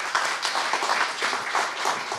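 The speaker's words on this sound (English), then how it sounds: "Big applause for him." Guests at a gathering welcoming a newly elected city council clap for a host, a moderate patter of hands from a modest crowd, fairly close and steady without voices.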